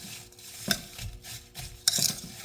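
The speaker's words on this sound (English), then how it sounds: "Gonna mix it." A spoon stirs apple pie filling in a bowl for a German pancake, soft scraping and wet mixing close by, with a couple of sharper clinks against the dish and no talking.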